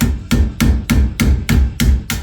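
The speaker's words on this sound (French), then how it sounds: "avec un marteau, je vais taper en dessous pour la sortir vers le haut" A hammer strikes the underside of a rear wheel bearing part on a Golf, eight hard metallic blows in a steady rhythm about a third of a second apart, close and loud with no talk.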